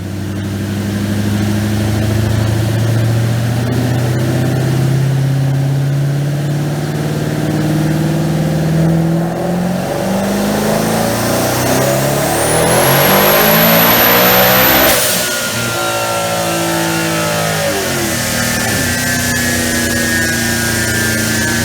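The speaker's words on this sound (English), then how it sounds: "Let's watch this one run on a dyno" A loud twin-turbo Ford Mustang engine revs up steadily in a long full-throttle dyno pull, peaks with a high whine, then drops off and winds down.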